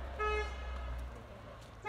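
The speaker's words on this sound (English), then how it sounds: "Here goes the water truck." A water truck passes and gives a short honk of its horn, a clear toot over low engine rumble, with another brief horn sound starting right at the end.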